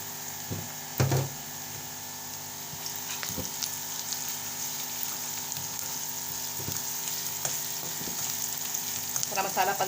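Onions turning light golden fry in a pan with freshly ground spices, giving a faint, steady sizzle with occasional stirring scrapes and small clinks.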